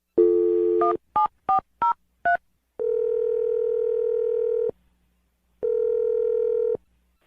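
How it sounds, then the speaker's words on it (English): Several short touch-tone beeps in quick succession, then a long steady ringback tone, a pause, and another ring. No voices. "I'm going to dial her phone number right now"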